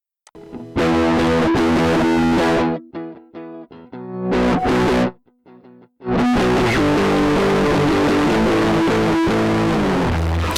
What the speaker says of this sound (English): Okay, that's how much distortion.